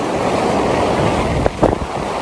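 Loud sea waves break and wash up on Worthing beach, a continuous roar of surf with a sharper crash of breaking water near the end, heard up close with wind buffeting the microphone.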